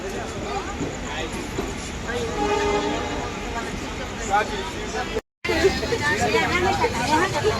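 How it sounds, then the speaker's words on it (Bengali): A train pulls out of Howrah station in Kolkata with a continuous rumble of rail noise and horn-like tones, while crowd chatter and babble run underneath throughout. "আমাদের ট্রেন আমাদের হাওড়া স্টেশন ছেড়ে চলে যাচ্ছে"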